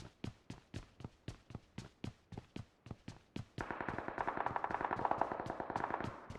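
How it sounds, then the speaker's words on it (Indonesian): Gunfire in a mobile battle-royale shooter game: about a dozen evenly spaced single shots ring out, then a rapid continuous burst of automatic fire follows, fairly close and sharp. "Ada tembakan dari area bukit"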